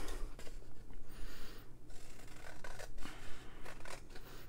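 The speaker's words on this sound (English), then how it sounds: "Let me get my bigger scissors." Large scissors cutting through paper tags, with a run of short snipping and rustling strokes at close range, fairly quiet and uneven in rhythm.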